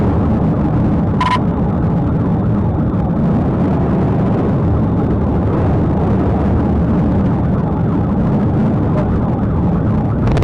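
Siren of a Michigan State Police car during a pursuit, heard under loud road and engine roar with broadband rushing noise, a brief sharp chirp early on and the siren faint and blended into the din.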